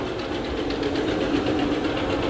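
Counter-rotating brush carpet cleaning machine runs steadily and close, a continuous mechanical hum with a busy whirring rattle and no pauses, alone without voices.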